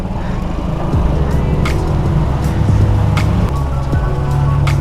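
A car on a road trip to Nijagal Betta splashes through standing water beneath a railway line, a loud continuous rush of spray and tyre wash over a low engine drone, with a brief voice partway through.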